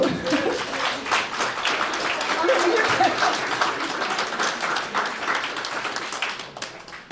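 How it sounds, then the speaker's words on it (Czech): Audience applause at a one-day exhibition about motherhood, a steady wash of many hands clapping that holds for several seconds before thinning toward the end, with faint voices mixed in. "takže tady potlesk pro Káču s Amálkou"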